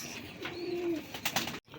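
A Rajgolla pigeon, a fancy breed offered for sale, gives a soft low coo up close, followed by faint chirps and rustling in a quiet setting.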